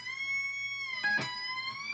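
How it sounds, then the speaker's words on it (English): A single electric guitar note is bent up a step and a half, a clean sustained tone that holds steady, then rises with a brief pick attack midway, quiet and solo without talk. "bend it a step and a half up to that note. Sounds like this."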